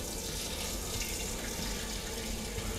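Liquid from a peach sugar-based homemade brandy mash pours through a sieve set on an upturned lid, a steady close trickling and splashing stream that runs evenly throughout.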